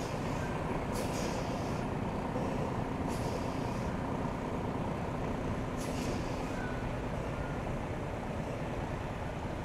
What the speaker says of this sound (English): I didn't even know trucks could come down here.